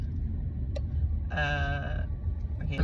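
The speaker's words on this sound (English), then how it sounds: "Sheep." A single drawn-out sheep bleat rises midway through, mid-loud and fairly near, over a steady low rumble of background noise.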